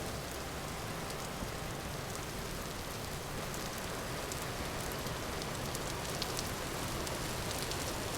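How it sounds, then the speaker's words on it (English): Rain pours steadily in the survival video game Vintage Story near water, a dense, even hiss of falling drops with occasional soft patters, continuous and fairly quiet with no talk. "Apparently the rain gets worse near the water."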